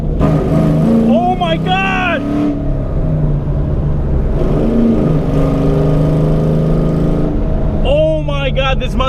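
A naturally aspirated 2-valve S197 Ford Mustang GT making 400 hp accelerates hard in first gear, its loud close engine note climbing in rising sweeps, easing, then surging again.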